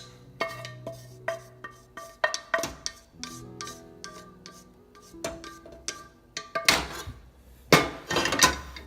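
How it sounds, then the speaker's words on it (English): Strained noodles being tossed into Alfredo sauce in a pan, with a busy run of close metallic clanks, taps and scrapes from utensils against the pan, getting louder toward the end. "We're gonna go ahead and add these strained noodles into the sauce."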